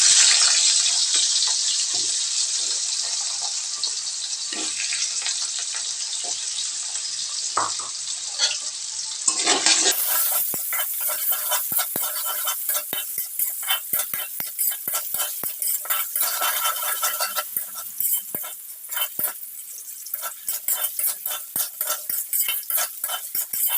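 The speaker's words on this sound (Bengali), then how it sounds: "এবার আমি এই তেলটা দিয়ে আলুগুলো একটু হালকা ভেজে নিই" Potatoes fry in oil in a wok, giving a continuous loud sizzle with frequent scraping and clinks from a stirring utensil, close and without talk.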